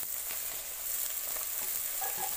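Goat meat with coriander, red chilli and turmeric frying in a kadai, a steady broad hiss with soft crackles and a few brief stirring scrapes, close and continuous with no voices.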